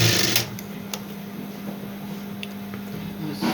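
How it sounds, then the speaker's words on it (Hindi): A sewing machine stitching a homemade fabric face mask, giving a steady, close mechanical whir that runs for a few seconds with a brief sharper burst near the start. "फिर जो बचा हुआ हिस्सा है इसे भी हम सिल लेंगे"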